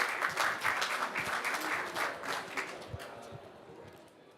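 Conference audience clapping for a panel on the stage, a dense round of applause that starts full and steadily thins and fades out over a few seconds.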